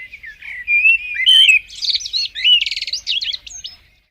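A single bird sings a loud, close, varied song of rapid chirps, trills and whistled phrases for about four seconds against silence, then falls quiet.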